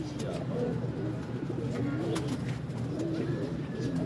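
Pigeons cooing in soft repeated rolling calls against a busy outdoor background, with faint voices nearby.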